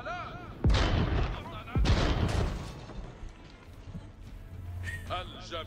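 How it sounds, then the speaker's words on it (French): Cannon artillery fire in the Age of Empires IV strategy game: two heavy booming shots about a second apart, followed by a quieter rumbling tail and faint game sounds. "Il y a un canon qui défend là"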